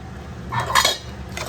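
A spoon stirs chili powder, turmeric and salt into boti curry in a pot, giving a few soft scraping clinks of metal on the pan around the middle, quiet and close.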